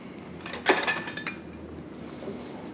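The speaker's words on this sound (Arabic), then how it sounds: "وراح نقلب" A spoon clinks and scrapes against a pot while stirring saffron powder into milk, a brief cluster of metallic taps and rattles early on, then quiet.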